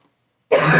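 A single sudden cough, close and loud, after a brief silence, cut off at the end.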